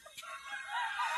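Chickens and a rooster crowing at a marsh farm, a sustained cock-a-doodle call rising and holding for about a second, fairly close with clucking fowl around.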